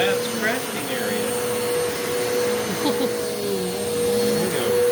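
A Eureka The Boss Capture bagless vacuum cleaner runs throughout with a steady, loud whine and drone close by, its pitch shifting slightly as it moves, and there is faint background noise.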